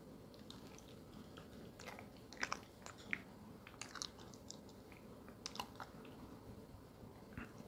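Close, quiet chewing of peach cobbler, with soft wet bites and crunches scattered irregularly over a low background hiss.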